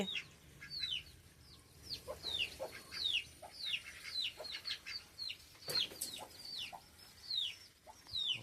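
A trapped chick cheeps and chirps repeatedly in a steady stream of high, sharp calls, close by, with faint clucking farmyard fowl sounds behind.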